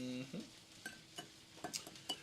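A tilapia fillet is lightly tossed in smooth, unseasoned flour in a kitchen, giving a few faint, quiet taps and soft clinks against a dish spread across a couple of seconds.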